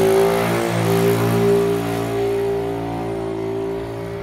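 A Yamaha Mio Sporty scooter with a carburetor or CDI fault and sluggish throttle revs steadily nearby, its engine holding a sustained, slightly wavering drone with no voices.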